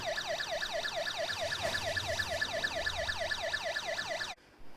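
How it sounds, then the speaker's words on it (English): A Snap Circuits alarm circuit gives off a rapid, repeating electronic siren that sweeps up and down in pitch about three times a second, steady and fairly loud, before cutting off abruptly at the end. "So this is our project alarm circuit."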